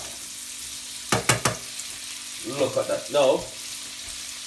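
King prawns fry with garlic on the front pan of a stove, giving a steady hiss beneath a few sharp clatters of the pan and a voice talking.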